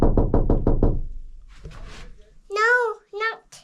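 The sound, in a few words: knocking on a door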